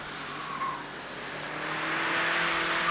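Car tires squealing during a fast test drive on a normal road, a sustained screech over engine noise that swells louder toward the end, no talking.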